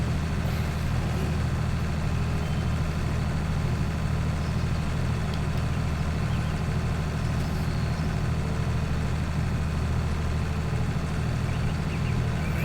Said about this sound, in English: Tractor is definitely struggling these days.